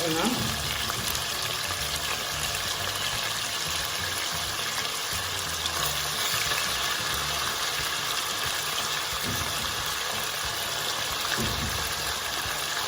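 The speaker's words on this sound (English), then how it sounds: "So yeah, the sizzling there. So yeah, your pork must fry nicely with the pineapple." Constant crackling sizzle of pork frying with pineapple in a pan, loud and close, with faint clinks of stirring throughout.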